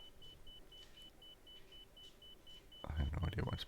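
Repeated electronic beeping in the cockpit of an A319 airliner in X-Plane 11 during the takeoff roll, a steady train of short tones throughout; a louder burst of engine and cockpit noise joins near the end.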